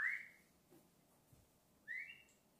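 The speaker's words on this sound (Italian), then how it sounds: "No, di fischio, di fischio." A person whistles two short rising notes separated by a pause, fairly clear against a quiet background with a few faint soft knocks between them.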